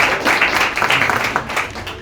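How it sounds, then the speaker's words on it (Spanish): Classroom audience claps for a presenter, a brief, fairly close burst of scattered hand claps that swells and then tapers off within a couple of seconds. "Un aplauso, por favor"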